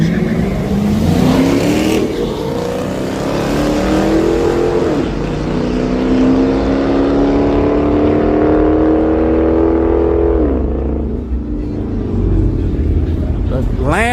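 A Mustang engine fitted with a TKM cam revs hard and loud for the whole stretch, its pitch climbing and dropping in repeated pulls, with voices faintly underneath.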